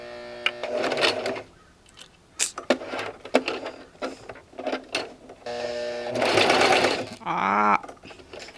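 Home sewing machine stitching through many thick layers of overall fabric, its motor whirring in bursts of varied length with pauses between, close and fairly loud, ending with a rising whine as the needle strains.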